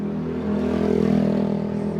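A tower fan motor being bench-tested during a repair hums with a steady low drone and a faint whir, rising slightly in the middle of the short stretch, close and alone.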